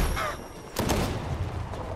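Gunfire in Fortnite, with a loud burst of shots near the middle over a busy, dense game mix.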